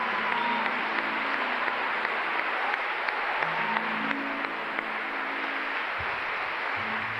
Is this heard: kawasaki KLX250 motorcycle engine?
no